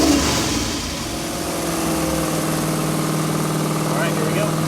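A Ford 302 V8 with a 2-barrel carburetor and cast iron intake runs on a dyno, a steady low rumble with slight rises in revs, while a voice talks over it.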